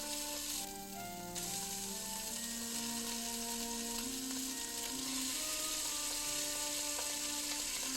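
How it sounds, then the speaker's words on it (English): Pork spare ribs sear in a hot pan with a steady, close sizzle, joined by a few clinks and scrapes of a utensil. "Put the ribs in the pan and sear on all sides."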